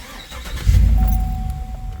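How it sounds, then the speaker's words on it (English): A Chevy Silverado pickup engine cranks and catches, a close low rumble rising suddenly then settling into a steady idle, with no talking. "Okay, so now, start the truck up."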